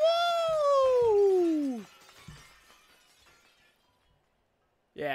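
A glass pane shatters in Wind Waker HD as Link falls through it, starting with a bright descending ringing tone, then a crash and a tinkling decay that fades into near silence before a brief burst at the end.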